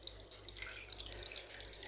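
Water trickles and drips from a cut plastic toy packet, a faint, short spatter of small droplets heard close up.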